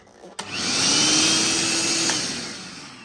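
An Electrolux Superbroom cordless stick vacuum cleaner switches on with a click, then its motor whirs steadily with a high-pitched whine, running close by.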